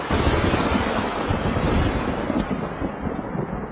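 Thunder from a lightning storm over the Tharparkar desert during hours of heavy rain: a loud, continuous, broadband rumble that rolls on without a break, with no voices.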